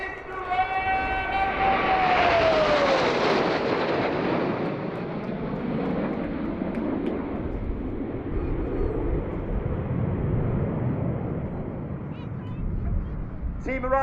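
Red Arrows RAF aerobatic jets in formation pass over Duxford at a flying finale with a loud, sustained roar that swells and fades, under a commentator's voice.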